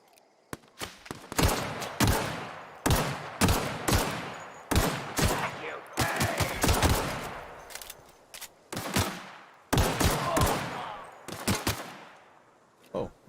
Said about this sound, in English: where's that guy shooting me from?